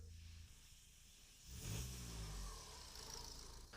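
A drift project car, bought at auction listed as not starting, has its engine fire and run, rising into a loud low rumble of revving after a quieter first second and a half, then settling to a steady running drone.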